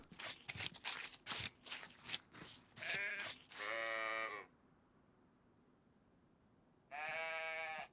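A sheep in DayZ gives two loud, wavering bleats close by, following a run of crunchy footsteps and scuffing, with a quiet gap between the calls.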